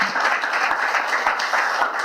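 An audience at a technical conference talk gives a sustained round of applause, dense and even with no talking.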